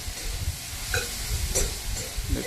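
Food in a frying pan is stirred with a spoon, soft scraping strokes over a low sizzle and hiss, close by and moderately loud, with a few brief clinks.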